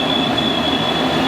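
Passenger train on the Dublin to Limerick line running on rails, a steady loud rumble with a sustained high wheel squeal heard from inside the carriage, no talking.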